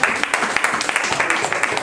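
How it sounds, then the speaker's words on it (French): Church congregation clapping together in a dense, rhythmic burst of many hands, fairly close and loud, with voices mixed into the applause. "On peut applaudir le Seigneur."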